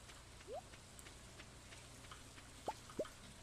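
Rain falling in Stardew Valley, a faint steady hiss of drops with a few short chirpy tones and small plinks scattered on top, no voices.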